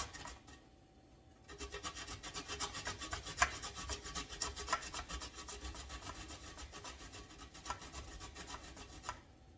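A block of pure chocolate grated into a pot in a kitchen, a continuous rhythmic rasping scrape, close and steady for several seconds, without talk.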